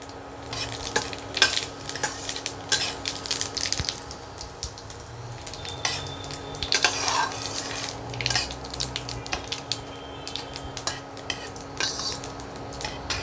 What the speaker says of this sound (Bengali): তেল গরম হয়ে গেছে, তেলের মধ্যে দিয়ে দিচ্ছি গোটা জিরে আর দুটো শুকনো লঙ্কা ফোড়ন, আর দেব একটা বড় তেজপাতা।